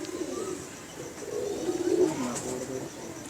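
A male pigeon coos in low, throaty rolling calls close by, the murmur rising and falling over a steady hum of background noise.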